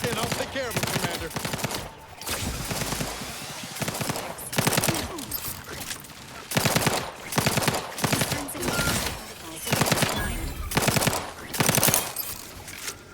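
Repeated bursts of automatic gunfire while fighting hostiles in The Outer Worlds 2, sharp rapid volleys broken by brief pauses and recurring steadily, close and loud throughout.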